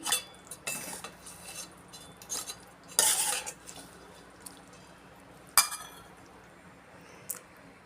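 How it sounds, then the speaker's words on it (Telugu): A spoon scrapes and clinks against a metal pot in scattered strokes while cucumber and dry fish curry is ladled into a bowl, with quiet gaps between. "స్టవ్ ఆరిపేసేసి గిన్నెలోకి తీసుకుందాం."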